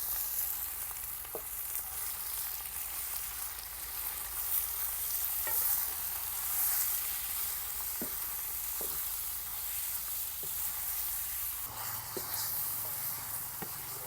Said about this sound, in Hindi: यहाँ पे कीमा हमारा जो है वो फ्राई हो रहा है।